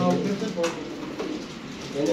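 A nearby pigeon coos several times in low, throaty bursts, with some human talk around it.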